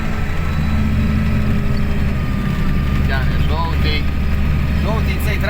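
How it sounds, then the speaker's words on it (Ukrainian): A T-150 crawler tractor engine drones steadily at close range while towing another tractor, a constant low rumble, while voices talk over it. "зеленый трактор тянет желтый."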